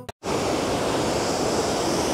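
A waterfall gives a loud, steady broadband rush that starts abruptly after a brief cut and holds without a break, with no voices.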